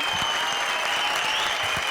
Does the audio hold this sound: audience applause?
yes